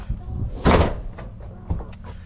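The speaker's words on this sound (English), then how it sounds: "It's an old front door that was repurposed into a shed door" An old front door reused as a shed door bumps open or shut outdoors, one solid knock with a fainter second thud later, over low background rumble.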